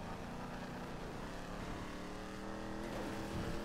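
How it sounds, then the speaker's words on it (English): Ford Mustang engine in GTA V revving hard and holding near redline, a loud continuous drone with a slight rise in pitch toward the end, no talking. "I try and drive with this Mustang now, and it just redlines constantly"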